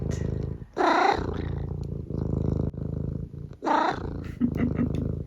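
A pet cat purrs close to the mic in rough, rumbling bursts, with louder throaty vocal swells breaking in twice and a few soft chirps near the end.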